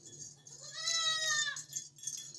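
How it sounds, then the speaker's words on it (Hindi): A young, somewhat weak goat for sale at a livestock market lets out a single clear, close bleat that wavers for about a second over quiet background noise. "ये बकरी है"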